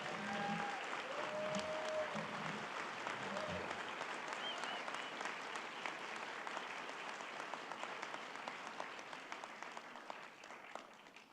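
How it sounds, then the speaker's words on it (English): Graduation ceremony audience giving a sustained round of applause for school staff, dense clapping from a large crowd that holds steady and slowly tapers, with a brief voice over it at the start. "Please join me in giving a heartfelt round of applause to my team."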